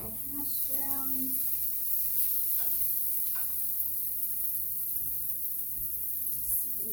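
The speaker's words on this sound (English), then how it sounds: "Stir my hash brown." Hash browns sizzle steadily in a pan, a constant fine crackle running throughout, with a few soft scraping stirs and light clinks near the start.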